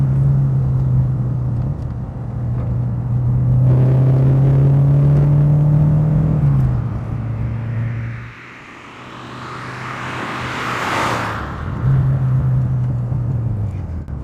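A 1989 Renault 5 GT Turbo engine pulls hard through the gears on a slippery road, revs climbing in steady sweeps with a brief lift and gap between shifts, loud and close, with turbo whoosh and road rumble.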